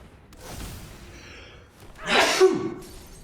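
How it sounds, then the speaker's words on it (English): A single sharp, breathy sneeze bursts out midway through a quiet stretch, close to the microphone, during a card-game stream with the player's voice faint beforehand. "I have to sneeze."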